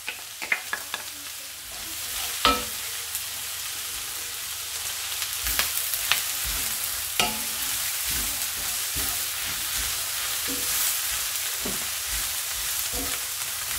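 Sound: cabbage and garlic frying in a pan

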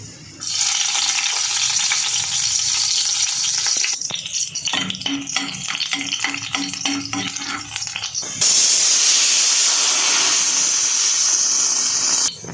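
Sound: cumin, ajwain and garlic frying in ghee

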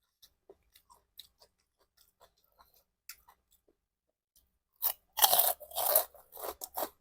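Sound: chewing crunchy fried pork rinds with papaya salad

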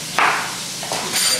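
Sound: chopping sweet onions

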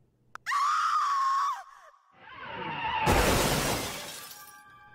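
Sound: screams of a girl and a woman

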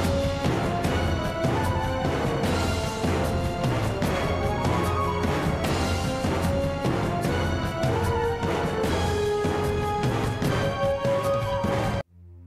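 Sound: smashing Scuttlechuck crystals in video game Pikmin 4

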